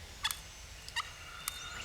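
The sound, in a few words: wild turkey gobbling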